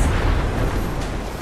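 Grenade explosions in the video game Fallout 76 fill the scene with a dense, sustained rumbling boom, heavy low-end roar lasting throughout with no clear gaps, loud and close.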